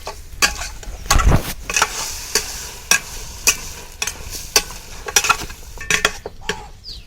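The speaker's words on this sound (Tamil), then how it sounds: "இப்போ எல்லாத்தையும் சேர்த்து நல்லா பெரட்டி விட்டுக்கலாம்" Mutton pieces with spices being stirred and tossed in a frying pan for Chettinad mutton fry: repeated sharp scrapes and clinks of a ladle against the pan over a low sizzle, close up, no talking.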